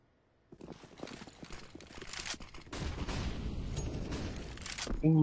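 Gunshots during a competitive shooter video game match, faint and distant at first, then thickening into rapid overlapping fire that builds in loudness toward the end.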